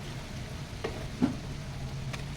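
Chicken adobo flakes with eggs and fried saba banana stirred in a pan, a soft low sizzle with two or three faint scraping stir strokes, close and quiet.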